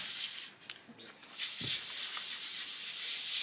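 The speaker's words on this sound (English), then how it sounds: "the thing with pastel is it mixes together nice and easily. You can just rub them together." Pastel colours rubbed together on paper in an adult colouring page, soft close scratchy rubbing strokes, faint and continuous, with a brief tap partway through.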